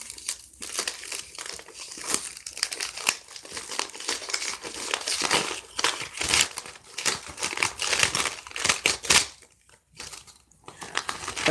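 Tax papers are handled close up, crinkling and rustling almost continuously with sharper crackles and brief lulls. No one speaks.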